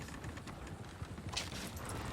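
Horse hooves clip-clopping in Red Dead Redemption 2, a steady run of hoofbeats at moderate level over a dense game soundscape with a few sharp transients mixed in.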